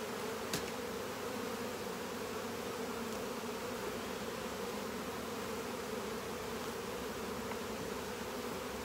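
Dense, steady buzzing of many honey bees close by during a beehive inspection, a continuous drone with no speech.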